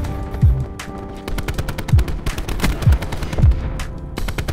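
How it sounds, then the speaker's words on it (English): Gunfire in the video game Black Ops 4 crackles in dense rapid bursts, with several heavier booming shots spaced through the volley, loud and close with no talking. "Buddy, stop shooting in the sky."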